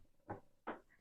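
A drawer in a craft workspace is pushed shut, with two distinct soft thuds about a third of a second apart, close and fairly quiet.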